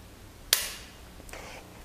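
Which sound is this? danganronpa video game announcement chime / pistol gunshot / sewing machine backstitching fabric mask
pistol gunshot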